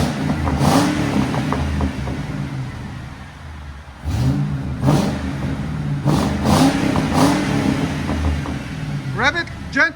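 A Ford Crown Victoria with Carven TR exhausts idles with a deep rumble and is revved gently several times in short swells, close to the tailpipes, while people talk over it.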